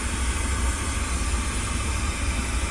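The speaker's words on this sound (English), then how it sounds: "you can always use the pink noise" A pink noise test signal plays for tuning a DSP car audio amplifier: a steady, dense, loud hiss covering every register, unchanging from start to finish.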